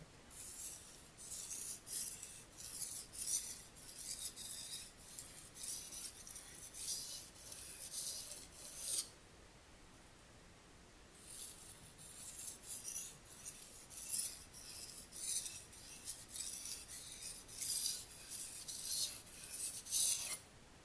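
A knife is sharpened by hand on a stone with light pressure, giving steady rhythmic rasping strokes, close and fairly loud, with a short quiet pause midway before the scraping resumes.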